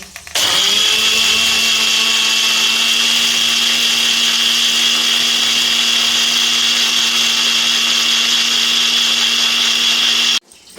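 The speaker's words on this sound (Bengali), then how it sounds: "এখন আমি এটা পেস্ট করে নিচ্ছি।" A kitchen blender grinds soaked mustard and poppy seeds into a paste, its steady high-pitched motor whine running loud and unbroken for about ten seconds before cutting off abruptly.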